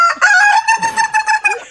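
A rooster crows in one loud, close call, its long harmonic cry stretched into several rising and falling pulses over about a second and a half, with no voices around it.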